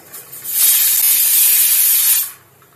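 A pressure cooker of black peas releasing steam: a single loud, broad hiss that swells quickly, holds for about two seconds, then cuts off.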